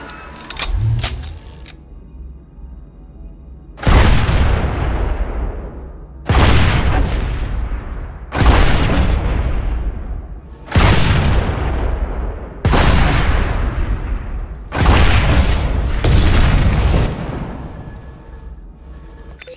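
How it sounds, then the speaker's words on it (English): Rocket launcher explosions in the PlanetSide 2 video game, six loud booming blasts a couple of seconds apart, each with a long decaying tail. "Switch to your rocket launcher and use it to blow up an enemy vehicle."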